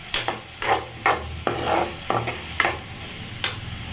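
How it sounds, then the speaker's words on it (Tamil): Egg pasta ingredients sautéed in a pan, with repeated scraping stirs in an irregular rhythm over a soft sizzle, close and moderately loud. "சேர்த்து நல்லா வதக்கிக்கலாம்."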